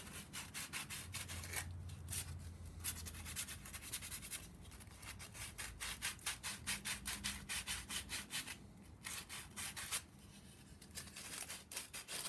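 Scrap wood being sanded by hand for a wooden K-cup holder, a steady rhythmic scratching of repeated back-and-forth strokes, close and continuous with brief pauses.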